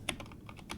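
Quick bursts of keystrokes on a computer keyboard, close and light, a short uneven run of clicks with no talking.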